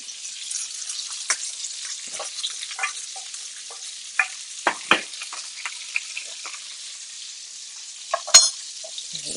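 Steak cooking in a pan with butter, a soft high sizzle broken by irregular spatter pops and crackles, one sharp louder knock near the end, close and free of speech.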